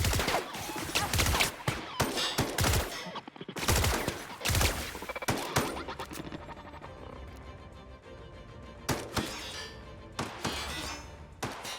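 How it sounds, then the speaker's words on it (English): Gunfire in the sci-fi video game The Outer Worlds: repeated loud bursts of shots and heavy impacts crackle in irregular clusters, with brief lulls between volleys and no talk. "Shoot back if you can. Shoot back if you need to."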